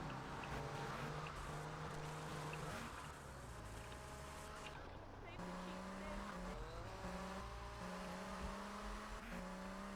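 Fast car engine in GTA Vice City, a steady buzzing whine that rises and shifts pitch through gear changes across the whole stretch, loud and continuous with game effects mixed in.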